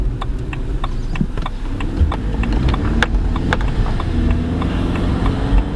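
A BMW 1 Series driving over road bumps after front strut and shock absorber repair, heard from inside the cabin as a steady low road and engine rumble with a series of light, regular taps and knocks from the car passing over the uneven surface.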